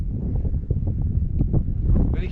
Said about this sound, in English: And a wee bit breezy up here though.